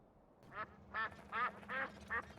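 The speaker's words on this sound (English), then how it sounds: "You're playing the duck sound effect." A duck quacking sound effect is played over a game livestream, giving five distinct nasal quacks in a quick, fairly even rhythm that stand out clearly and sound close, with no talking.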